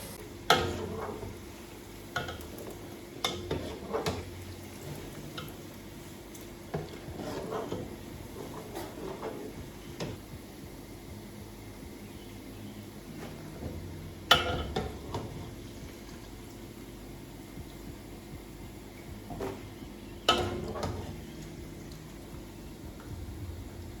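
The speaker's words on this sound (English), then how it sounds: "you have to make sure that you are stirring consistently so that it doesn't get burnt" Amala is stirred in a pot during cooking, with repeated scraping and knocking strokes of a spoon against the pot at an irregular pace over a soft background sizzle, fairly quiet and close.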